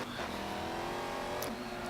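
A Dodge Durango SRT SUV engine in Forza 7 holds a steady, loud rev for about two seconds, with a brief higher whine toward the end.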